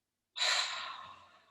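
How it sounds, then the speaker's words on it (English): A single breath drawn in through the nose during pranayama practice, a close, soft airy rush that starts abruptly and slowly fades over about a second. "So breathe in through the nose."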